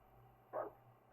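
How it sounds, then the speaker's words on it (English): Single short dog bark in the Darkwood survival horror video game, faint and distant over a quiet low hum. "That's the second dog bark."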